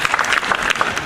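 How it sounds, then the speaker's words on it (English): Audience applause as a child is welcomed onto stage at a school event, a brief burst of dense clapping filling the whole moment. "Give him a round of applause."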